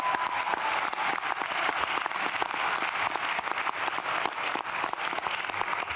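Sustained applause from a large audience at a college commencement ceremony, steady and dense clapping throughout with no pauses.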